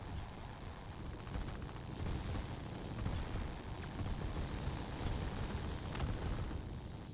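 A rocket strike destroys a launch pad in the Line War strategy game, heard as a sustained rumbling explosion with dense low roar and crackling bursts running through the whole stretch.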